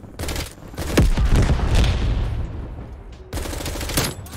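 Gunfire from the FARA 83 rifle in the game Call of Duty: Cold War, heard as close, loud bursts of rapid shots with a booming low tail, then a short pause before another burst.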